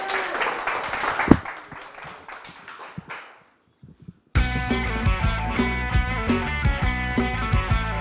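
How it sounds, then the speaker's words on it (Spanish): Audience applause for a band at a live musical show, a few seconds of clapping with one sharp loud clap, trailing off into near silence before loud band music abruptly begins. "Venga, muchachos, aplauso."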